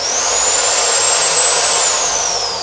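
A Bosch GSB 500 RE 13mm impact drill runs with no load, a loud, close, high-pitched motor whine that holds steady for the whole stretch and eases slightly toward the end.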